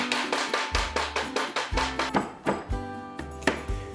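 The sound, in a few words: hammer crushing ice cubes wrapped in a towel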